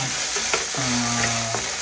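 Cumin, coriander, garlic and ginger sizzle in hot oil for a tempering, a steady close frying hiss with a couple of soft stirring knocks.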